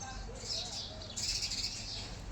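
Sparrows chirping near their nest beside a house under construction, soft high twittering in two bursts, fairly faint against a steady background hum.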